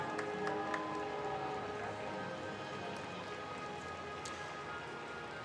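Drenching rain falls on an Olympic stadium during a Paralympic athletics event in Tokyo, a steady dense hiss throughout with a few faint distant calls.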